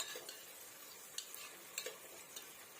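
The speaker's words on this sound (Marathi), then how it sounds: "2 उभे कापलेले कांदे त्यात घालते. कांदे आपल्याला परतून घ्यायचे आहे." Sliced onions sauté in oil inside a pressure cooker, a soft continuous sizzle broken by a few light clicks and scrapes of a stirring spoon against the metal, faint and close.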